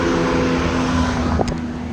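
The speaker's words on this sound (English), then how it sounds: "Nice old Porsches there." Old Porsche cars drive past on a nearby road, a loud, steady engine and tire roar that swells briefly and carries on without voices.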